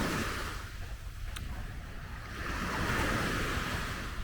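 Ocean waves wash onto the beach at Los Barriles, Baja California Sur, as a soft, continuous surf that swells slightly toward the end, with light wind and no talking.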